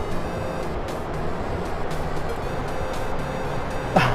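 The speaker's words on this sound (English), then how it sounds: "This is the quietest bus I have ever been on." Bus engine rumbling steadily in the DayZ video game, a dense, continuous low drone with mild fluctuations, moderately loud and unbroken for a few seconds, ending with a short sharp noise.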